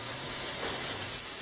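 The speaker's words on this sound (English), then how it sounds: "That's it on the carb spray." Carb cleaner sprayed from an aerosol can onto a junkyard LS engine during piston and deck prep, a steady continuous hiss running unbroken and fairly loud throughout.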